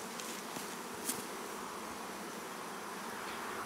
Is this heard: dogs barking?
no